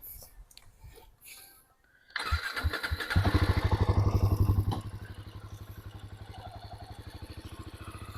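A motorcycle engine starts up and revs loudly, then settles into a steady, close, rhythmic running throb during a short ride.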